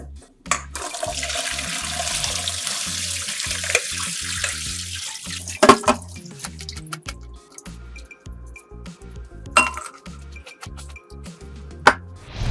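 Ice water with blanched vegetables pours through a strainer in a kitchen, a rushing splash of water followed by scattered knocks and clatters of the colander and ice, close and loud.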